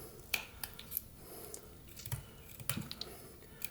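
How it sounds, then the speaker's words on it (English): Pocket knife blade cutting into wood while whittling a woodspirit, a few faint scattered scraping clicks and snicks, close but quiet over a soft background, no talk. "So I'm going to put a little cut into the wood, and then start cutting up to that."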